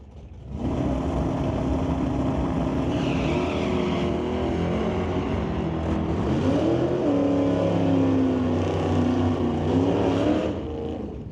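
Hot rod drag race cars launch and roar down the drag strip at an ET series bracket race, a loud sustained engine drone with rising revs and shifting pitch across the whole run, no talk over it.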